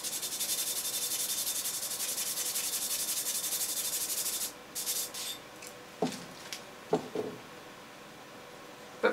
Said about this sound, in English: Let me sand it back a little bit more.